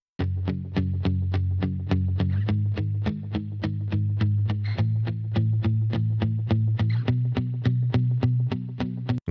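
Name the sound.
electric bridge guitar track played with plugins muted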